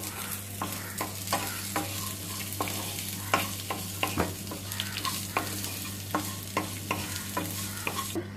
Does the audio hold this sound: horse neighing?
no